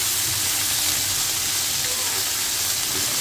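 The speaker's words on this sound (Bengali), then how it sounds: "মাথা ভাইজা তরকারির মতো রান্না করতেছি আর কি" Fish heads fry in a pan of oil, giving a loud, dense, continuous sizzle and hiss that stays close and even from start to finish, with no speech.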